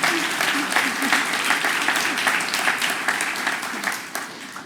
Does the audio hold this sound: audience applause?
yes